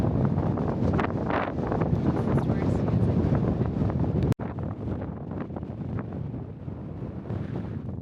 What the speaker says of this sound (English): The wind is making this very not fun.